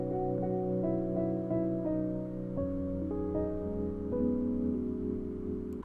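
A lofi beat built in FL Studio plays sustained, layered piano chords doubled two octaves apart, soft and continuous, changing chord every second or so with no voices.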